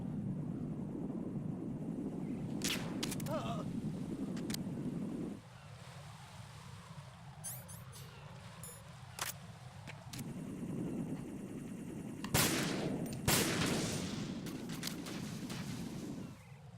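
Gunshots in Metal Gear Solid 2, several sharp cracks in two short clusters, standing out over a loud, steady helicopter-like rotor drone that briefly dips.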